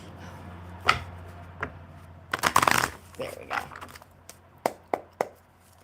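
Playing cards shuffled and riffled in short bursts on a live coffee-and-cards stream, several sharp snaps and a dense flurry in the middle, fairly close against a quiet hum.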